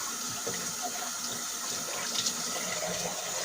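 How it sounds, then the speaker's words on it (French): Tap water runs steadily over a goalkeeper glove held under a lukewarm stream, a continuous close splashing hiss with no voices. "On va humidifier le gant. Donc là, je le passe sous l'eau."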